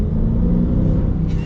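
Chrysler 300S V8 sedan under acceleration, a deep, loud engine rumble with rising revs heard from inside the car, steady and close for about a second and a half.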